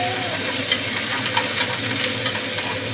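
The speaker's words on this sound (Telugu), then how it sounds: "కరివేపాకు వేసి వేయిందాం." Curry leaves dropped into hot tempering oil with urad dal, cumin, mustard seeds and dried red chillies, giving a steady close sizzle and crackle with a few sharper pops scattered through.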